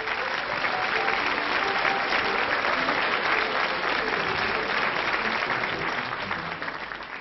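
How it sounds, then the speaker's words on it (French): Studio audience at a French television music show applauding steadily and loudly, dense sustained clapping throughout with only a slight fade at the very end. "le public va t'applaudir de confiance"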